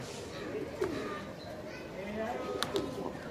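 A pigeon bought from a market coos just after being let out of its cage, a few soft, low rolling calls, faint and close, with a sharp click partway through.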